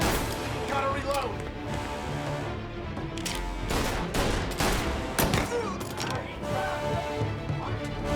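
Dense, continuous gunfire in the Mafia Definitive Edition video game, with loud overlapping shots, metallic mechanism clatter and crashes, while voices shout over the fight.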